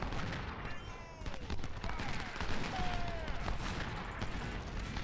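Cannon fire aimed at a tree line in a video game rolls as repeated distant booms and scattered gunfire crackle under a battlefield din, while someone talks over it.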